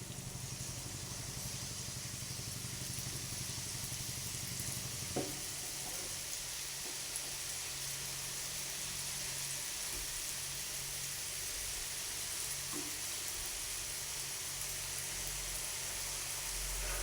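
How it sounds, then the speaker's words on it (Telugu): Kajjikaya pastries with dry fruit stuffing deep-frying in hot oil on low heat, a steady soft sizzle throughout with a few faint clicks, no voices. "కజ్జికాయ తీసుకొని ఒక్కొక్కటిగా ఇలా ఆయిల్లో వేసుకుందాము."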